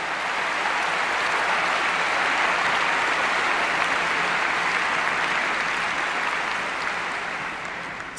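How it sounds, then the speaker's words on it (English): An audience at a morning session of a large conference applauds the attending students, a sustained wave of dense clapping that holds steady before tapering slightly at the end. "let's give a round of applause for all the students who are here"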